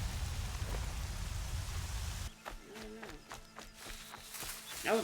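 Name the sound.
rain in the video game Horizon Zero Dawn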